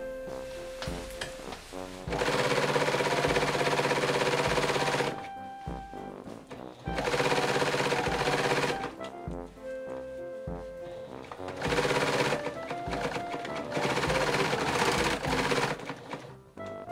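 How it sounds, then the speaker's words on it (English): A serger sewing machine stitching a long seam around a U-shaped piece of a pair of pants, running in loud steady bursts with brief quieter pauses and clunks between runs. "we're going to stitch completely around this entire U, certainly over this one long seam."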